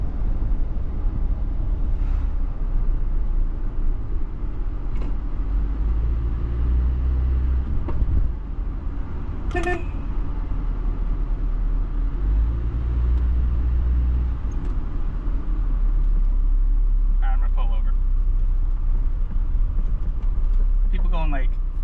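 Nissan Be-1 small car creeping slowly along a road at low speed, a steady close engine and road rumble running throughout while someone talks over it.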